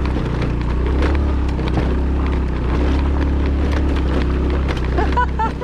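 A small motorbike engine drones steadily close by on a ride through rural Indonesia, with wind buffeting the microphone and faint rattles over the constant hum.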